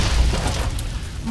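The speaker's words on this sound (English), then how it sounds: "Enjoy that nuke." A deep, rumbling nuke blast from Fallout: New Vegas, a loud low boom that rolls and slowly fades over about a second.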